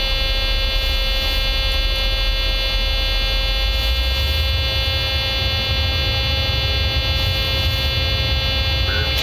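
A 737-800 flight simulator runs its jet engines at full power, giving a loud, steady tonal hum and whine with a low rumble swelling partway through, and no one speaks.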